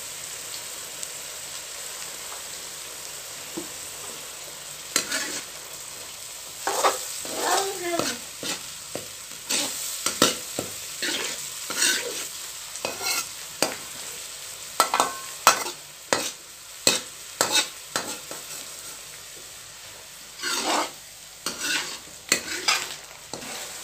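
Dal seasoned with salt and turmeric frying in a pan for tindi dal chana, with a soft continuous sizzle and frequent rapid scraping stirs that cluster in bursts, close and fairly quiet.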